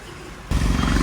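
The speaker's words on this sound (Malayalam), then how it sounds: "നല്ല മഴയാണ്" Heavy monsoon rain drums loudly and steadily around a 1993 Mahindra CJ 500 DI jeep on the drive to Varattmedu, the roar jumping sharply louder halfway through and continuing as a dense, close wash of noise.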